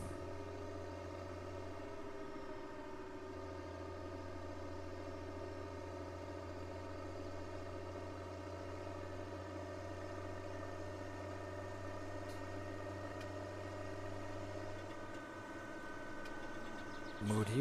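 A tractor engine idles in the farming game Farming Simulator 17, a faint, steady low drone that hums on throughout, with a deeper tone dropping away partway through.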